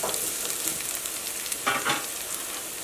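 Chopped onions sizzle steadily in a hot pan while being cooked for wheat flour upma, with a few scraping stirs breaking through the constant frying hiss.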